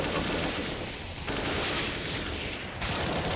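Pistol gunfire in a Counter-Strike: Global Offensive match, a loud, continuous barrage of overlapping shots with brief dips in intensity.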